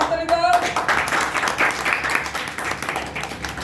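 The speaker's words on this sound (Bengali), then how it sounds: "তো সবাই একটা হাততালি দাও।" Children clap together at an education centre during a Republic Day visit by dealer association members, a dense steady patter of many hands lasting the whole stretch, fairly loud and close.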